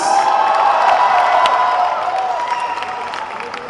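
A trailer-launch audience greets a singer with loud, dense applause mixed with cheers and whoops, tapering slightly toward the end.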